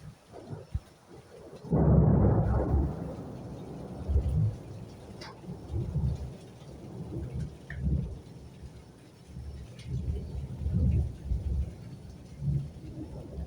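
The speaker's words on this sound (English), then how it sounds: "it's raining here in Florida, Tampa, Florida, that is." Steady rain falls through a night in Tampa, Florida, with a loud rumble of thunder breaking in near the start and rolling on under the rain, with softer low swells of thunder or gusts afterward.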